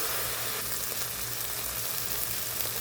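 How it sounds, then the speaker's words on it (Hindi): Ginger garlic paste fries in a pan with a splash of chickpea cooking water, producing a dense, steady sizzle and hiss throughout, close and moderately loud. "इसे भी 2-3 मिनट तक अच्छे से भून लेंगे"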